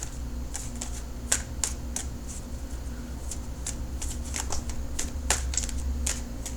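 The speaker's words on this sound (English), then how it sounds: "then I'll cut the cards." A deck of tarot cards being cut and shuffled during a reading, giving soft repeated papery riffles and flicks close by, with no talk.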